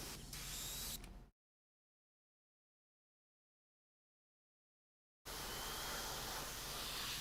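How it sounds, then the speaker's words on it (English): An airbrush sprays paint onto a Blood Angels miniature, a steady close hiss that runs for about a second, stops into silence, then returns continuous and loud. "And now I should get spray again."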